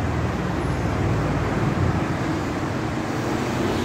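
Steady night traffic rolls along Madinah Road in Jeddah, Saudi Arabia, a continuous low rumble of cars and heavier vehicles passing close by with no talk.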